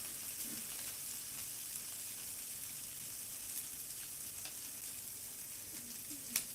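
Onions sizzling in a pan next to a frying steak with butter, a steady soft hiss with a faint crackle now and then, heard close and alone.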